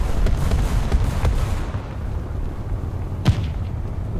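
Distant booming shots from a T-28 tank cannon in War Thunder ground battle, a rumbling low backdrop with a couple of muffled reports, one sharper crack near the end.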